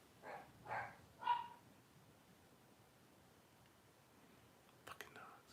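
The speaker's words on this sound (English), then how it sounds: "Fucking dogs." Dogs bark a few times in the distance, three faint barks in quick succession followed by quiet, then a brief muffled rustle.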